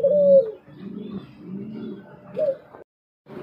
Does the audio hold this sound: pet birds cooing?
yes